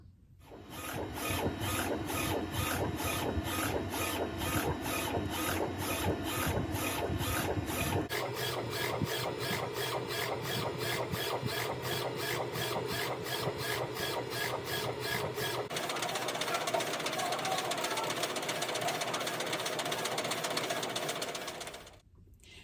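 A DTF printer prints a design onto transfer film, its print head shuttling back and forth in a fast, regular mechanical rattle that continues steadily at close range, changing pattern slightly between passes, alone with no talk.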